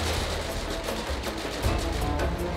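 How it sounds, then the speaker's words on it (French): Gunfire during a SWAT police station assault in GTA 5 with the LSPDFR mod, a dense continuous barrage of shots and crackling fire, loud and sustained with no pauses throughout. "C'est quoi tous ces coups de feu?"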